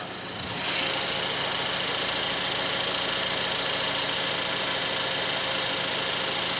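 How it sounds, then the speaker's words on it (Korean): A Kia Stinger engine idles with the hood open, a steady continuous low rumble and faint mechanical ticking, close by and uninterrupted, with no talking. "엔진 소리 한번 들어볼게요"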